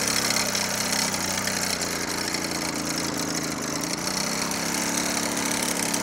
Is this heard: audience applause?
no